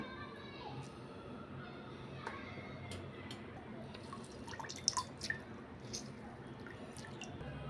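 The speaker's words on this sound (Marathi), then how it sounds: "हे कारले आपण थंड पाण्यात टाकलेले आहे आणि पिळून घेणार आहे" Water drips from bitter gourds soaked in cold water as they are squeezed tight, sparse faint drops and small squishes over a low, hushed kitchen background.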